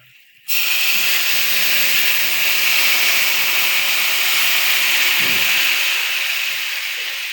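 Fig mixture poured into hot oil on a low flame for fig halwa sets off a sudden loud, steady hiss and sizzle that fills the moment and holds strong throughout, no talking.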